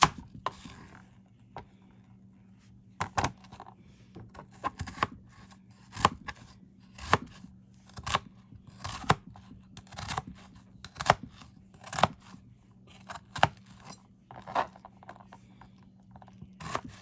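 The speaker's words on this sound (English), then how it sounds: "I'm dicing it kind of small pieces." A knife dices food into small pieces on a board, giving crisp, fairly regular chops about once a second over a low steady hum, with no speech.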